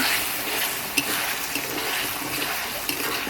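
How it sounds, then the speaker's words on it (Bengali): Water is splashed into spice paste frying for a rohu fish curry with taro, giving a soft, rushing hiss and bubbling with a couple of small pops, moderate in level and brief. "মশলাটা যাতে না পুড়ে যায় সেজন্য একটু পানি দিয়ে দিলাম"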